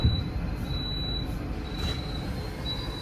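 A KA Progo economy overnight train slows to a stop at Jatinegara station, with a steady low rumble of rolling wheels and faint high brake squeals recurring throughout, heard from inside the carriage.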